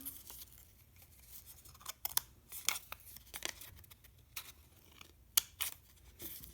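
Scissors snipping small lines into a plastic straw for a kids' craft flower, a series of quiet, close, irregular clicks and snips with no talking.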